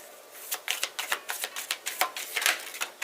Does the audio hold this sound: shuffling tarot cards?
yes